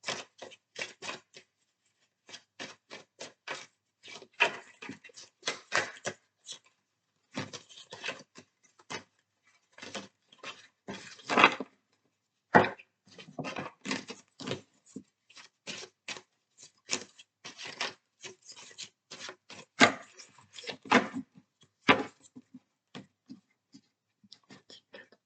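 Tarot cards are shuffled and laid out by hand, making crisp papery rustles, riffles and soft slaps in irregular bursts separated by short quiet gaps, close and fairly soft, with no one speaking.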